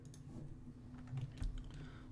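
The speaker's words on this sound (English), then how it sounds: "just press delete on your keyboard" A few soft, quiet keystrokes tap on a computer keyboard, closely spaced over about two seconds against a faint background hum.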